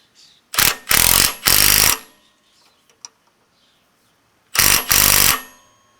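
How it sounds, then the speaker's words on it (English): Impact wrench tightening control arm bolts on a Jeep Gladiator during a leveling kit install, three loud hammering bursts in quick succession, a pause with small clinks, then two more bursts. "Tighten these control arm bolts back down, so that's the way I want it to be."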